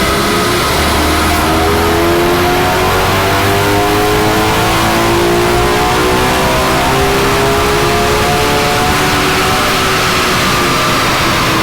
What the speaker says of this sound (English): who doesn't like seeing a car on the dyno?